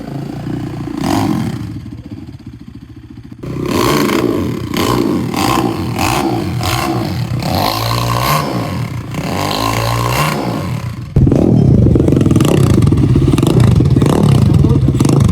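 A custom-built mini motorcycle at a mini moto fest in Sri Lanka revs its engine loudly and continuously, its pitch rising and falling with clattering mechanical noise, growing louder near the end.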